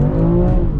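A BMW M4 engine drones and revs loud and close while drifting, a short burst of steady, harmonic-rich motor roar.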